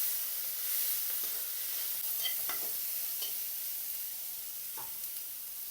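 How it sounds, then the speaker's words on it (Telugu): Green chillies fry in a pan for egg Maggi, giving a steady close sizzle with occasional stirring scrapes and no talk. "కొంచెం వేగితే చాలు, ఎక్కువ వేగాల్సిన అవసరం లేదు."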